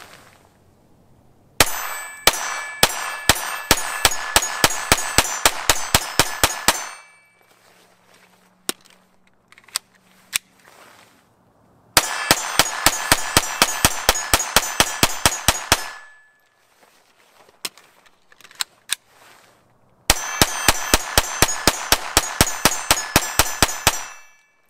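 A Kel-Tec P17 pistol firing CCI Mini Mag 36 grain hollow points, loud and close, in three rapid strings of about a dozen sharp shots each, separated by pauses with a few stray metallic clicks and clanks.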